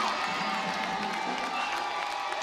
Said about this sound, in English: Has his own cheering section up here to the left.